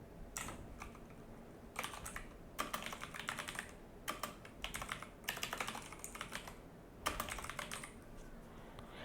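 Typing on a computer keyboard, with several short bursts of quick key clicks separated by brief pauses. The keys sound close and fairly quiet.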